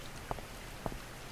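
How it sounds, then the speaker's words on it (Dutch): Rain in the video game Within Deep Sorrows, a faint, steady patter with a few distinct drops landing at irregular intervals, quiet and alone without voices. "En het regent."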